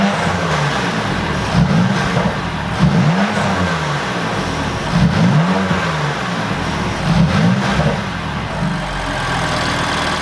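A BMW F80 M3 engine revs repeatedly through its exhaust, rising and falling in several throaty bursts over a steady idle, close and loud.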